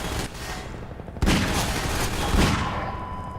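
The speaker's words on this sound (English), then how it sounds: "Okay, 8 shots." Rapid burst of revolver fire in Half-Life 2, a sharp loud crack at the onset followed by overlapping echoing shots and rumble, close and dense with no talk.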